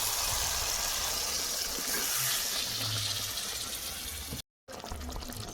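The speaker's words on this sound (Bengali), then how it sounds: "মশলা বাটি ধোয়ার জলটা দিয়ে দেবো" Spice-bowl rinse water poured into a pan of cooking papad curry, a soft steady splashing and trickling that runs for several seconds, heard alone and fairly faint.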